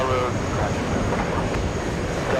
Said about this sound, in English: we're going to go and zoom into the American 777 flying to Paris, France